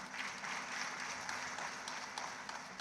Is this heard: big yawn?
no